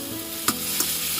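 Corned beef sinigang being stirred in a pot with fish sauce just added, giving a steady simmering hiss broken by two brief spoon scrapes against the pot, close up and alone.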